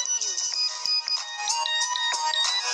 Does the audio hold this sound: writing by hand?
no